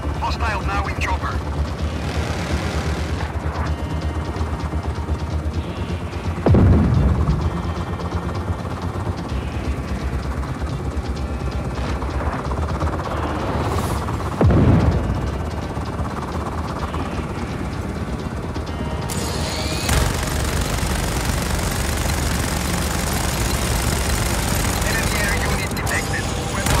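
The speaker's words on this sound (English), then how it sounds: "Hostile now in chopper." An enemy helicopter in the game Just Cause 4 drones steadily with rotor and engine noise, with a few sharp bursts and impacts breaking through, and voices talking over it at times.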